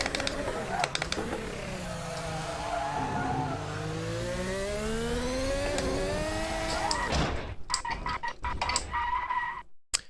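A car drifts on a track, tyres squealing in long rising and falling howls over engine roar for several seconds, then giving way to choppy bursts of noise near the end; loud and continuous.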